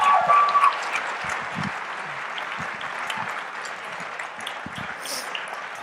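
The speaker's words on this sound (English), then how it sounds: "Please give a big round of applause for Alejandro." An audience applauds after a talk on prosecutorial discretion in Denver, a broad wash of clapping that is loudest at the start and then settles into a steady, slightly softer patter.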